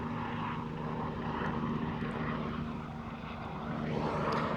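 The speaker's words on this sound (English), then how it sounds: "Another helicopter." Continuous engine roar of a helicopter overhead, swelling slightly louder toward the end, with no one speaking.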